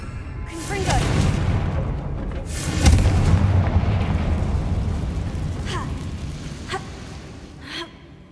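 In Hogwarts Legacy, a Confringo fire spell blasts a ruined bridge with heavy, booming explosions. A big burst hits near the start, a louder one follows, and sharper blasts crack out toward the end over a rumbling roar.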